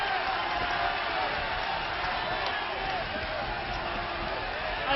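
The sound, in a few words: wrestling audience going wild, fights around the ring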